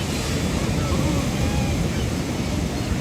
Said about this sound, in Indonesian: Nice wave.